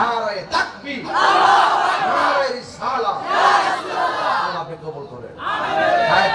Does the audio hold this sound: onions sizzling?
no